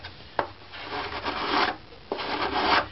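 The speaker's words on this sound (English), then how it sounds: "We're scraping." Wood of a violin bass bar being scraped by hand, in two long rasping strokes that each open with a sharp catch and then grind on steadily, loud and close with no voices.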